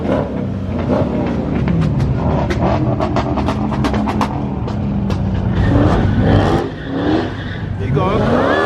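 Street-race night with a Mexican GTR and an X3M40i around: engines rev and rumble loudly up close, with rapid throttle blips, tire noise and crowd voices mixed throughout.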